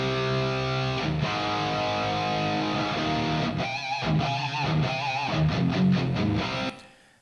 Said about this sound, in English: And then some room reverb.